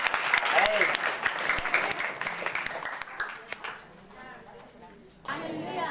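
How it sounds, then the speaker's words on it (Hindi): A church congregation at a prayer meeting claps loudly in quick rhythmic beats, then the applause thins and fades out as a voice starts speaking. "जोरदार ताली से धन्यवाद।"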